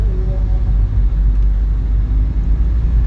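A car driving along a road near Kediri in the late afternoon, heard from inside as a loud, steady low engine rumble and road noise with no clear rise in pitch and no talking.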